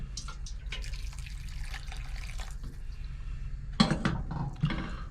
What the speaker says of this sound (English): I'm going to add a little bit more water because it's not enough.